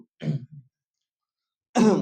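A person clears their throat in a couple of short rough bursts, then a longer, louder throat-clearing rasp follows after a brief silence, close by.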